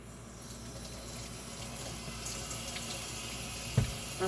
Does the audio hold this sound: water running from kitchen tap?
yes